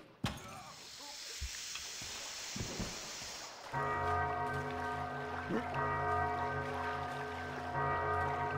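Bell ringing inside the stealth video game Thief, in the Raven Creek fan mission: a hissing ambience with a few soft knocks gives way to a steady, sustained resonant bell tone that carries on loudly to the end.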